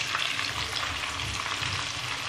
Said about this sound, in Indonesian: masukkan bawang merah dan bawang putihnya. Ini digoreng hingga layu saja.